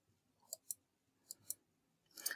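Keyboard keys pressed on a computer while building a Qualtrics survey, with a few sharp, separate clicks close by and a louder, longer rattle of keystrokes at the end, no talking.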